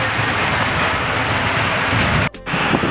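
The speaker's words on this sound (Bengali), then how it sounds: "বৃষ্টি এত পরিমাণে হচ্ছে, মানে বাইরে যাওয়া যাচ্ছে না, এত পরিমাণে হচ্ছে বৃষ্টি" Heavy rain pours down in a loud, continuous roar, broken by one brief dropout near the end.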